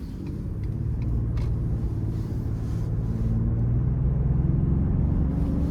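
A 2016 Ford F-150 XLT with the 3.5-litre twin-turbo V6, driven in sport mode, gives a steady low engine drone and road rumble from inside the cab that holds even throughout with no voices.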